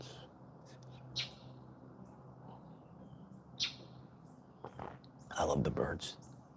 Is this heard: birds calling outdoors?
yes